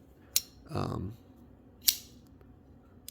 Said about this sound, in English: It's got pretty decent flipping action.